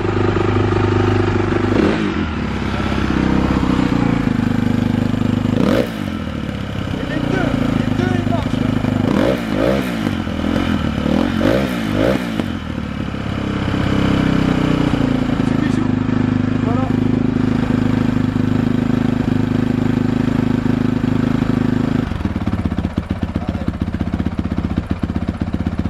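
A Honda CRF 450 motocross bike with a twin-outlet exhaust runs loud and close, idling with a rough clattering beat and rising into several sharp revs before settling back to a steady idle, with a voice talking briefly over it.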